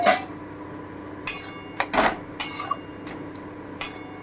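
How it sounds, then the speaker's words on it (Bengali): A metal lid is lifted off a cooking pot of rice and potatoes. There are several close, bright clanks and clinks, with short taps and scrapes in between. "এবার আমি ঢাকাটা তুলে একটু দেখে নিচ্ছি"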